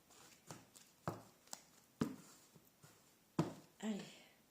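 Tarot cards being shuffled and cut, heard as several distinct soft slaps and riffles spaced about a second apart, close and moderately loud, with a few brief murmurs in between.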